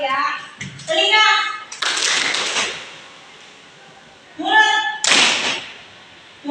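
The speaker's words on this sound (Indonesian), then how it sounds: "Kalau Ibu bilang telinga, tepuk tangan 2 kali." Children in a classroom game clap their hands together in short group bursts. Between the claps, a teacher and the children's voices call out words.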